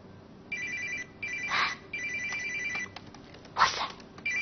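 A telephone rings late at night indoors in a drama scene, sounding in repeated bright bursts separated by short gaps over a quiet background.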